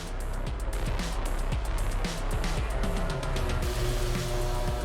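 MotoGP racing motorcycles in the sprint race at the 2024 Austrian GP, one passing through the long lap penalty loop; loud, continuous high-revving engine drone with rapid gear-shift pulses throughout, mixed with crowd and track ambience.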